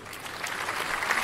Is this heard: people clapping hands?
yes